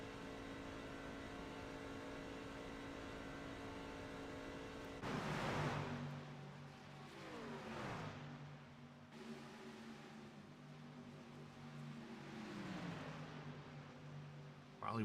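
Race truck engines in the iRacing sim at Talladega, a steady multi-toned drone that shifts pitch repeatedly as the trucks run in a draft, played fairly quietly with no talking.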